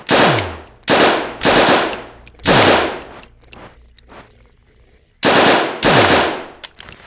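Loud, close bursts of automatic gunfire in the video game No Such Place, five rapid volleys separated by short pauses, each trailing a brief echo.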